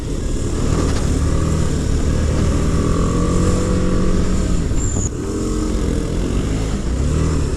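A BMW G310R motorcycle rides through traffic, its engine droning loud and steady throughout with a steady mechanical hum and little let-up, no talking over it.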